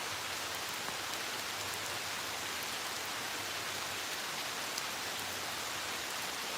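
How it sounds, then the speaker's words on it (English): Steady outdoor rain falls as a constant broadband hiss of drops on surfaces, moderate and unchanging throughout, with no voices. "You guys hear the rain?"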